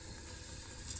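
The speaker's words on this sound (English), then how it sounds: "I am frying some chicken." Chicken fries in hot oil, a steady close sizzling hiss that swells slightly at the end, with no voices.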